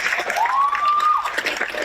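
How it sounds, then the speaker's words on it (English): Dense, steady applause from a crowd at a live discussion event with a mayor, with a whistle rising and holding above the clapping for a moment. "You need a clap for that."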